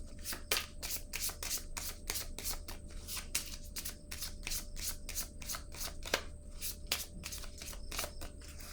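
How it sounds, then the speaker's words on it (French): Tarot cards handled and laid down on a table during a reading, a steady run of crisp papery ticks and flicks repeating close by with no talk. "Je vais déposer une autre carte."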